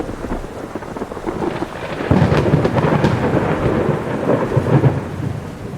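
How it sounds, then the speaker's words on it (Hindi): Thunder rumbles over steady rain in a cartoon, with a deep roll building midway and swelling again near the end as the downpour continues throughout without any voices. "ये तुम्हारी पहली बारिश है।"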